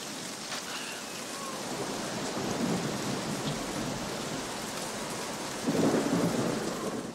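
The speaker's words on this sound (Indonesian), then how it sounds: "tiba-tiba hujan lebat turun sehingga mereka kehujanan" Heavy rain pours steadily on a deserted island forest while thunder rumbles low, swelling twice to louder rolls, with no voices.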